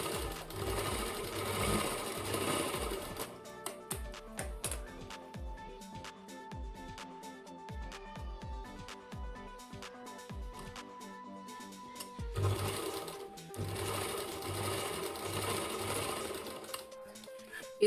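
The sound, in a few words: sewing machine stitching a blouse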